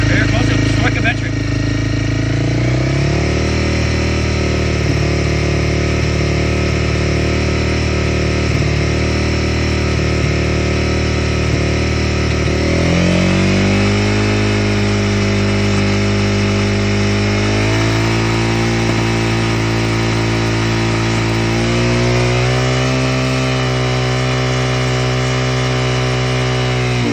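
Honda CB300R motorcycle fitted with an Akrapovic exhaust, engine held at a steady idle-to-mid rev and stepped up in several sustained revs, loud and close, with a constant droning tone.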